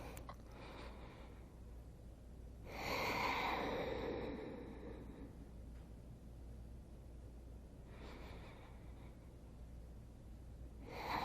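Slow, deep breaths during a yoga stretch, with a long airy exhale near the start and a softer one later, close and quiet against a low background hum.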